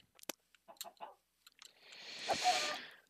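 Minecraft chicken clucking in short, sharp bursts, a few quick separate clucks followed by a longer, louder flurry of squawking, close and clear against silence.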